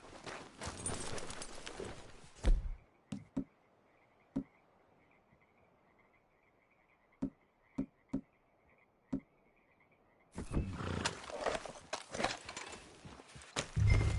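Horse hooves clip-clopping in the open-world Western game Red Dead Redemption 2, a sparse, irregular run of sharp single hoof knocks over a quiet bed of croaking frogs and insects, with louder busy game sound before and after.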